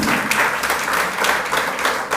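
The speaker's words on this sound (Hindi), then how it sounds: "राजीव जी, और हमारे मंडल अध्यक्ष, इनके लिए जोरदार ताली बनती है नहीं बनती है?" A large audience at a political gathering in Karnal claps loudly and steadily, a dense wash of applause that holds without a break.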